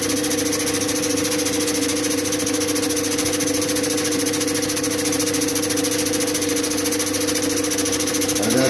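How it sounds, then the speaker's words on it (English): An opal polishing wheel runs with a steady mechanical hum and whine, a constant motor drone holding at even loudness with no breaks or voices. "And that's your polishing wheel here."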